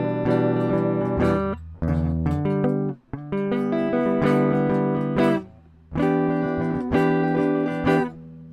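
Guitar playing inside chords, a series of clear strummed and plucked chord voicings changing every second or so, with brief gaps between phrases, alone and moderately loud.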